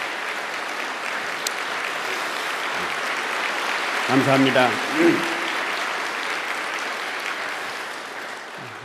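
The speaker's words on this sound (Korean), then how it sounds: "우리 두 분에게 다시 한번 감사의 박수를 드리겠습니다." A church congregation claps in sustained applause, a broad, even wash of clapping at moderate distance, while someone briefly says a word of thanks over it near the middle.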